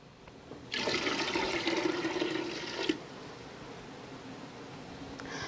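Water is poured into a pot of vinegar for pickled beet canning brine, a steady splashing stream lasting about two seconds before it cuts off, leaving quiet room noise.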